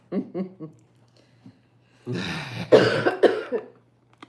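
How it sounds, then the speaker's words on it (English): Short throaty coughs come first, then a harsher burst of several rough coughs in quick succession, close and fairly loud, with quiet pauses between. "I'm still having coughing fits,"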